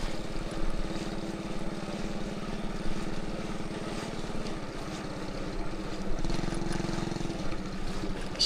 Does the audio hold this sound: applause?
no